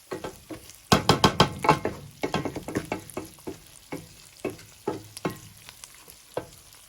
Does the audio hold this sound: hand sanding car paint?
no